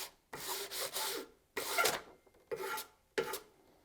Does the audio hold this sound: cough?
no